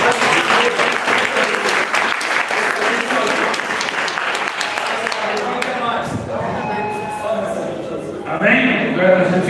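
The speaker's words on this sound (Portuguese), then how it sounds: "Bate a palma do Senhor" Congregation clapping together during a Pentecostal church service in Ferraz de Vasconcelos, steady dense applause throughout, fading slightly then swelling again at the end, with voices mixed in.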